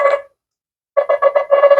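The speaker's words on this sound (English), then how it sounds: "See, this is my current ringtone." A Nothing Phone 2a plays its ringtone, a short tonal chime, then a pause, then a rapid run of pulsed electronic notes, loud and close.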